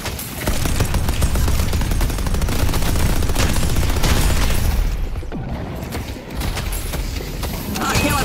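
Sustained turret fire in Deadlock forms a dense, continuous barrage of rapid shots and booms, loud and steady for several seconds before thinning slightly amid ongoing battle noise.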